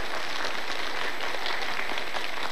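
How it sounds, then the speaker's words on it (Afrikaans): An audience applauds at a magic show, a thick, even wash of clapping that continues without pause, heard fairly close. "ek dink jy moet lekker hande klap vir jouself"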